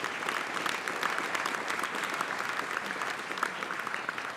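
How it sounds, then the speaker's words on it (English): Steady, dense applause from an audience at a hackathon closing ceremony in Sydney, sustained clapping throughout without pause, moderately loud and close. "can we please get a warm round of applause from the World Wildlife Foundation"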